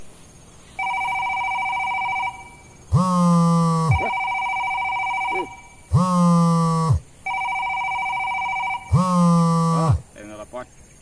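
An old-style telephone bell rings three times in long bursts, loud and close, with electronic tones sounding between the rings.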